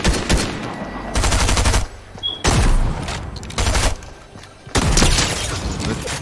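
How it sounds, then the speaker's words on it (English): Bursts of video game gunfire rattle in loud, rapid automatic volleys separated by brief lulls with scattered single shots and booms, close and intense throughout. "They're shooting behind you."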